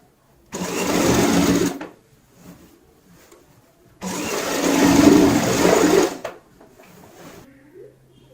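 A sewing machine stitches the lining of a gown in two loud, close bursts of rapid mechanical whirring, each lasting a second or two, separated by quiet pauses with faint handling noises.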